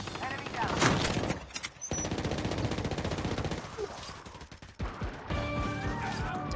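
Rapid automatic gunfire bursts from the video game Call of Duty, loud and close with mechanical clatter, breaking off briefly before resuming in dense fusillades alongside sharp game effects.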